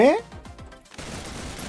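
Gunfire rattles in the video game P5X, starting with a rapid burst of shots among game effects, then a brief lull before a dense, lower crackle of firing resumes.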